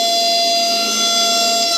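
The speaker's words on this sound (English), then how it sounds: "Let me turn on the fuckery alarm for this next one here." A loud electronic alarm sound effect blares steadily on a livestream, a continuous harsh tone with stacked buzzing overtones and no talking.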